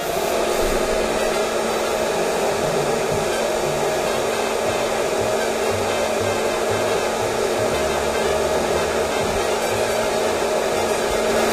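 A Fresh Roast SR 500 hot-air coffee roaster runs mid-roast on a raised heat setting, giving a steady, loud, unbroken fan-and-heater whoosh like a hair dryer throughout, with no talking.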